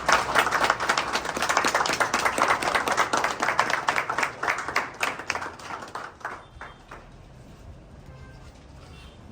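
A crowd at a Congolese political party meeting in Kinshasa claps loudly and continuously, dense applause fading away over the last few seconds into quiet room noise.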